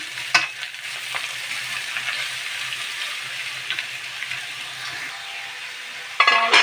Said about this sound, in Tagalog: kunting gisa-gisa lang